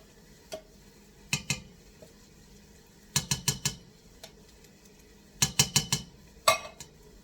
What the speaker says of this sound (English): next we're going to put in 3 cans of chili beans